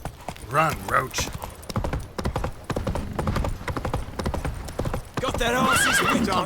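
Galloping hoofbeats clatter in a fast rhythm in The Witcher 3: Wild Hunt gameplay while voices talk over them, and a horse whinnies near the start and end.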